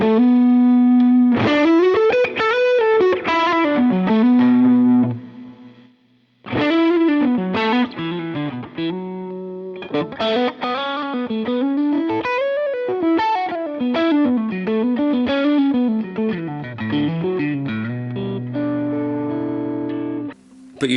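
Electric guitar driven through the Line 6 HX Stomp's built-in drive with dual amps, a loud, distorted tone playing bending lead lines over held notes, with a short gap near the middle before the phrases resume.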